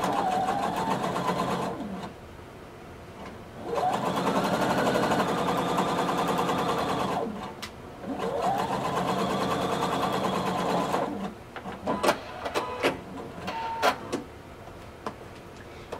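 A sewing machine stitches a blazer seam in three long, even bursts of rapid whirring separated by pauses, followed by a few short clicking stops and starts close up.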